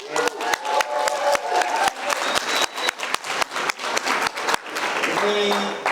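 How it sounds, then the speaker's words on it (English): Guests at the 2023 InTouch Live charity gala in Los Angeles applaud, a steady patter of many clapping hands at moderate distance with voices talking over it. "I want to give everybody a round of applause for coming here"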